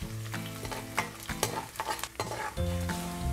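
Chana dal and torn dried red chillies sizzle in hot oil during tempering for Madurai-style tamarind rice, a close crackling fry broken by several stirring scrapes of a spoon against the pan.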